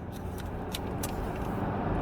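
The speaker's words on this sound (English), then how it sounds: "we're going over some highway here, so there's some road noise." A car drives along a highway, filling the cabin with a steady, loud rumble of road noise and low tire roar that holds unbroken throughout.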